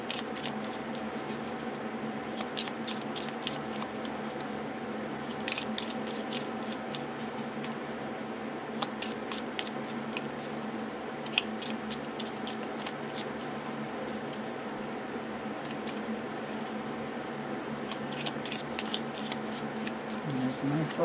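Oracle cards from a Secret Pocket Oracle deck are shuffled and pulled, giving a steady run of soft papery riffles and quick card snaps at close range over a constant low background hum.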